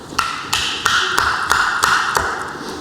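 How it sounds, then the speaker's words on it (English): Carbon rod being hammered into an aluminium bike cage, six sharp metallic taps at an even rhythm, each with a bright ringing tone, close and loud with no voices. "And you can really hear when it hits the aluminium."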